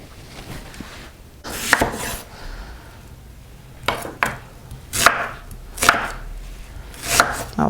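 A kitchen knife cuts through a large onion on a cutting board, giving six or seven loud, close chops with sharp board knocks spaced a second or so apart over a quiet background, without speech.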